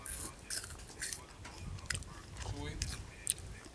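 Sugar cane being chewed in Jamaica, with close, wet crunching and biting bursts repeating through a few seconds, set against soft background noise and faint murmuring.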